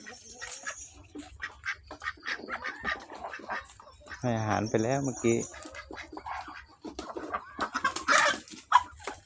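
Ducks quack in a loud burst among scattered clucking chickens in a coop, while a person talks nearby throughout.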